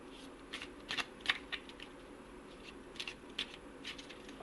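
Tarot cards being shuffled during a card reading, giving a series of soft papery riffles and flicks in quick irregular bursts, quiet and close, with no talking over them.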